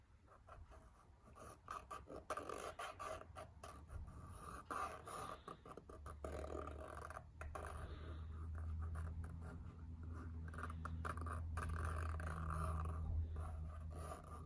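Fine-pointed unconventional drawing tool scratching over paper while drawing seed pods, soft close scraping strokes in irregular short bursts, faint and dry, with a low hum beneath.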